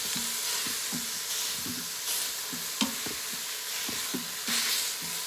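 Ground beef sizzles in a hot pan while a mix-and-chop tool breaks it up, steady frying hiss under regular scraping knocks roughly twice a second, close and fairly loud.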